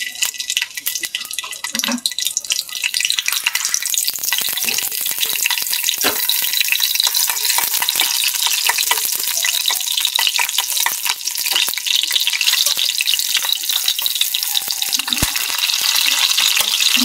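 Dried mola fish shutki frying with green chilies in oil in a kadai, giving a loud, continuous crackling sizzle with dense spitting pops throughout, close up and without talk.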